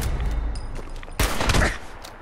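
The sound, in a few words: sniper rifle gunfire in video game Fallout 4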